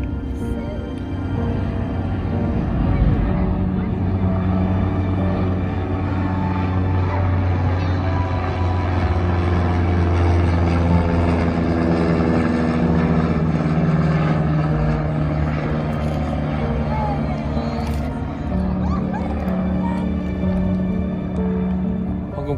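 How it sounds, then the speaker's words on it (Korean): A propeller airplane drones overhead on an Alaskan whale-watching outing, a loud, sustained engine hum that rises and falls slowly over about twenty seconds, with people talking quietly underneath. "비행기라도 찍어야지."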